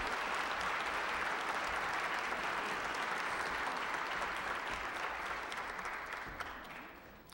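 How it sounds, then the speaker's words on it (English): A church congregation applauds at a worship service, a dense, steady wash of clapping from many hands that holds for several seconds and then gradually tapers off. "I think they deserve a round of applause."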